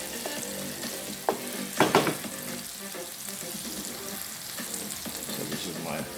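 Bok choy stems hit a hot pan in a pork chop stir fry, giving a steady sizzle with a few sharp crackling bursts as they are stirred and tossed, fairly quiet and close.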